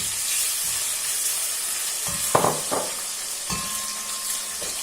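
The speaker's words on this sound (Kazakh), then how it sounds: "Мен қайтадан екінші рет қуырам." Chicken pieces frying in a pan for sweet-and-sour sauce, a steady close sizzle and hiss throughout, with a few brief clinks of utensil on the pan midway.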